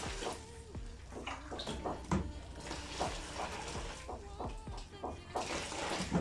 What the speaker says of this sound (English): So I'll put them in a bowl and then I will rinse them about 4 to 5 times.